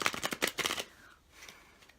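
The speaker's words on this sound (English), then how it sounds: "I'm going to shuffle it, and I'm going to just pull a random card. See how it shuffles." A tarot card deck being shuffled up close, a quick rapid burst of crisp flicking card riffles lasting under a second, followed by quiet handling.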